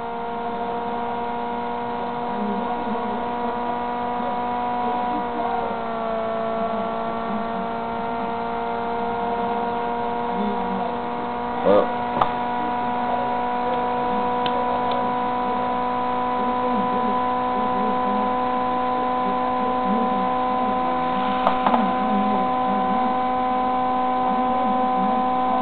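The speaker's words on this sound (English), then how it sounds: "I'm going to short this coil out." A steady electric hum from a guitar pickup with its coil shorted out, a continuous buzzing drone held throughout with slight pitch wavers and a couple of faint clicks, and no voices.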